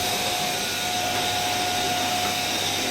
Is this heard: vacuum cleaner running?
yes